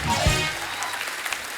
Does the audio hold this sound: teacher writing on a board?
no